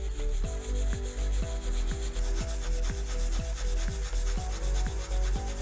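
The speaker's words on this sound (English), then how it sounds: "we are going to polish the surface using the 220 grit sandpaper" A surface is sanded smooth with 220 grit sandpaper in small tight circles to prepare it for a strain gauge, making a loud, continuous rhythmic rubbing with regular strokes about twice a second.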